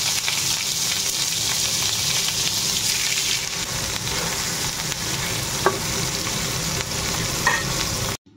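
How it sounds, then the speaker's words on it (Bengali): Cauliflower frying in a pan gives a steady, close sizzle throughout, with a couple of faint clinks near the end. "কফি ভাজা তো বসালাম"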